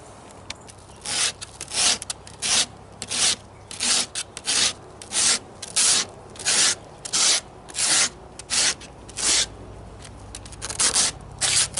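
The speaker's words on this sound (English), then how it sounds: "Try some" Regular sandpaper rubbed by hand on a carved stone pipe in steady back-and-forth strokes, about a dozen close, gritty rasps separated by short pauses.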